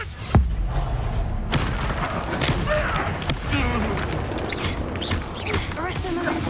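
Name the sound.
Confringo blasting spell cast in Hogwarts video game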